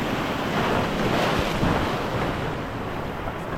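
Ocean surf breaks and washes steadily onto a shore in a continuous, loud roar, with wind buffeting the microphone throughout.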